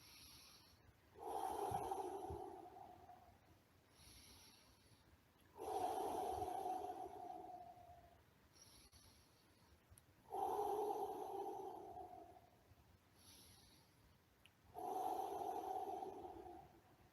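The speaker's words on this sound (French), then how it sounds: "on peut enlacer et mettre sa tête comme ça, et enlacer un arbre et respirer comme ceci" Slow, deep breaths taken close up while someone hugs a tree with their head resting against the trunk: four long, airy inhale-exhale cycles with quiet pauses between them and no talking.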